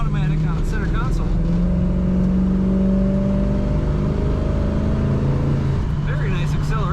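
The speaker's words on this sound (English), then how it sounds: "Very nice acceleration in this Camaro." A 1968 Chevrolet Camaro RS with an automatic transmission pulling hard, its engine note climbing steadily in pitch and loud from inside the car, with someone talking over parts of the run.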